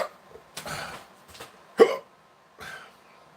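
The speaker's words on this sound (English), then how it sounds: "Hiccups." Hiccups from a person after eating spicy chicken wings, several separate sharp gulping bursts spaced across a few seconds, the loudest near the middle, close and clear with no talk.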